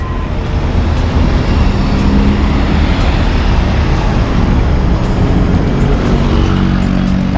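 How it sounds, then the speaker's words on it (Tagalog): Broadband engine and road rumble from a motorbike ride climbing a steep road to Baguio amid busy morning traffic, steady and loud throughout with wind buffeting and no talk. "Tapos traffic pa."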